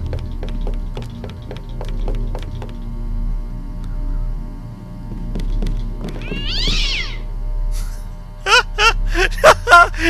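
A cat meows in the video game Deus Ex, a short rising cry heard once midway through, followed by a burst of several sharp clicks and knocks over a low ambient hum, with faint tapping earlier.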